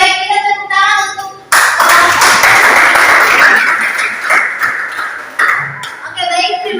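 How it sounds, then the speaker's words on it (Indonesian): Students in a school classroom clap together loudly after a group presentation, a burst of several seconds of dense hand clapping with a teacher's voice speaking before and after. "kita tepuk tangan untuk"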